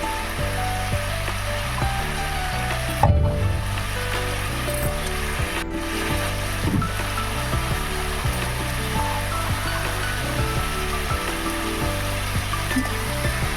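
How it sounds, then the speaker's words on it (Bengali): Water is poured into a sizzling pan of potato and brinjal parshe fish curry, a steady rushing pour over constant frying hiss with a couple of brief clatters, close and fairly loud throughout. "এবার আমি এতে জল দিয়ে দেবো"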